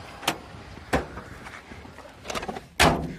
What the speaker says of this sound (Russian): Ну, тут дверь вообще четко закрывается.